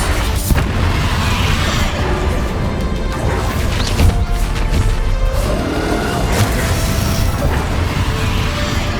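Confringo spell blasts in Hogwarts Legacy, loud crashing booms and impacts over a dense, constant roar of game combat noise, with no clear talking.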